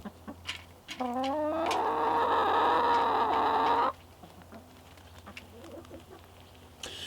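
A hen lets out a loud, drawn-out squawking call lasting a few seconds, with softer clucks and rustling before and after, in Alaska.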